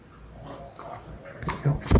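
A frightened dog whimpers and yips briefly indoors in a studio, soft at first then rising into a couple of louder whining cries at the end.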